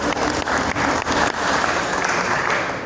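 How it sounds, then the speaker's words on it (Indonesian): An audience at a KAHMI regional gathering in East Java claps in steady, dense applause for Trenggalek, a broad even roar of many hands that holds at full strength throughout and eases only slightly near the end. "Aplaus dulu dong untuk Trenggalek."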